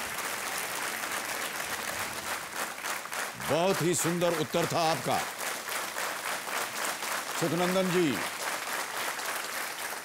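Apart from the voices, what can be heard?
audience applause on a TV quiz show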